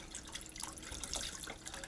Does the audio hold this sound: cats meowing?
no